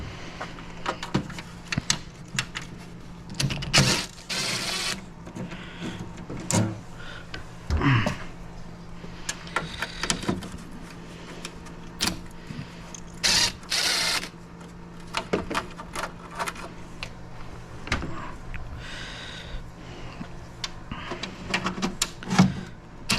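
A small hand tool is used to take out screws on an MEP 803A generator being refurbished, giving scattered metallic clicks, scrapes and clinks, close and irregular over a low steady background hum.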